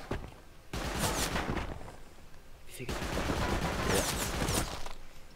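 Auto turret in the Rust survival game firing rapid bursts of gunfire in two long volleys, loud and close, with a short gap between them and a brief voice speaking.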